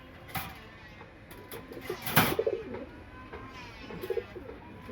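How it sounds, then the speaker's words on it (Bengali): A breeding pigeon coos softly in a loft, a few low rolling calls spaced out over quiet background, with a brief rustle or flap near the middle. "একটি নট যে নটটি ডাকতেছে"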